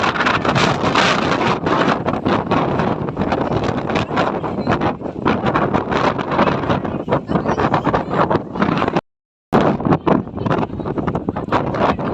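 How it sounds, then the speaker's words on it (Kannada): Strong wind blowing on a hillside trip in Chikmagalur, loud gusty buffeting against the microphone, continuous apart from a brief dropout near the end. "ಗಾಳಿ"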